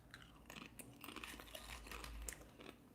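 Someone chews dip close to the microphone, faint crunching and crinkling bites repeating unevenly without talk.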